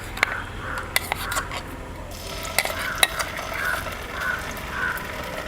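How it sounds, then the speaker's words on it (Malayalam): Ground masala paste frying in hot oil while being stirred for a chicken dish, a steady soft sizzle with scattered scraping clinks of a spoon against the pan, crows cawing faintly in the background. "ഈ എണ്ണ കിടന്ന് ഈ അരപ്പൊക്കെ നന്നായിട്ടൊന്ന് മൂത്ത് വരുന്നവരെ നമുക്കൊന്ന് ഇളക്കി കൊടുക്കാം."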